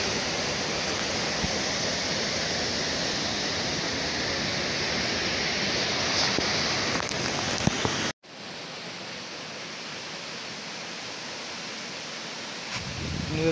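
Dudhsagar waterfall on the Mandovi river roars steadily as water plunges from the top, a loud dense rush that drops to a softer but continuous wash partway through.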